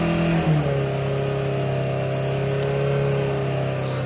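A Ford car with an automatic gearbox revs under full accelerator pedal. The engine note climbs quickly in the first half second, then holds a loud, steady high-rev drone.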